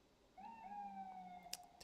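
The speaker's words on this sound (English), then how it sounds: "Damn ambulance." A siren wails outside with a long, steady tone that drifts slightly in pitch, heard faintly and at a distance behind a quiet room, with a couple of brief clicks near the end.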